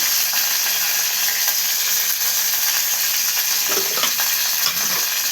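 Onions and tomato frying in a pan for an Andhra-style gongura chutney, giving a steady, close, dense sizzle with light crackle that runs unbroken throughout, with no voices.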